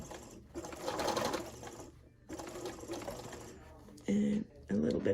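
A sewing machine stitches a circle around a flower patch in short bursts of rapid needle chatter with brief stops in between; the last two runs are quick and sharp.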